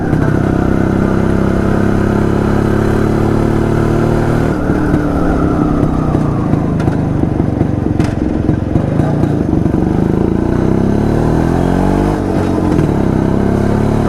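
An old Jawa Yezdi D250 Classic two-stroke motorcycle with twin exhausts is ridden, its engine droning steadily and close, with shifts in pitch as the rider changes speed and gears.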